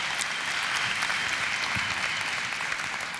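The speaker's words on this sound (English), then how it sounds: "give him a gigantic round of applause." An audience at a startup contest gives a sustained round of applause, many hands clapping in a steady, even wash that fills the hall for over three seconds and fades slightly at the end.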